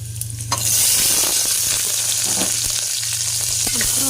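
Garlic and onion sautéing in a pan for a simple dal meal, a loud continuous sizzle that flares up after a quiet first half-second, with scattered stirring clinks and scrapes close by.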